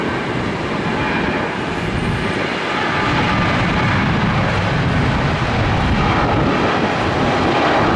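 Airplane at Tampa International Airport as flights resume after a hurricane, a steady broad roar of jet engine noise at some distance, continuous and without voices.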